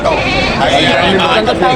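Goats bleat repeatedly at a busy goat market over a background of voices and crowd chatter, the calls close and overlapping.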